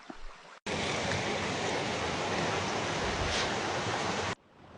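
The Zhenets river flowing in the Carpathian mountains: a loud, steady rush of water that starts abruptly, holds for several seconds close to the listener, then cuts off to quieter surroundings.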